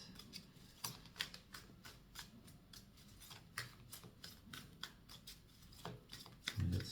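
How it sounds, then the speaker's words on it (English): Tarot cards are shuffled close by in quick, crisp riffles and slaps, repeated in an uneven rhythm at a soft level. "We got some very specific shuffling going on."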